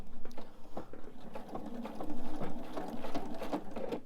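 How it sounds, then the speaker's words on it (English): A sewing machine stitches slowly around a purse, its needle clattering in a quick, even mechanical rhythm at close range with small pauses and shifts in pace. "I'm just going to sew around the bag nice and slow."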